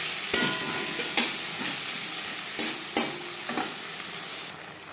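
Spices with turmeric and salt sizzle and fry in a pan for a Bengali silver carp and potato curry, a steady close hiss punctuated by several scraping stirs of a spoon, no voices.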